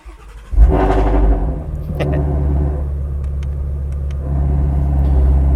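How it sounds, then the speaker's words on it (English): A Ford Shelby GT350R V8 cold start with the windows down: a sharp starter catch and loud bark, then a deep, rumbling fast idle that settles and rises slightly again, heard close and without talk. "this will be a sort of cold start"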